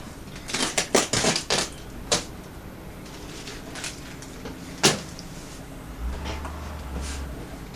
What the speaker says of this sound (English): Let's go ahead and take the tape off.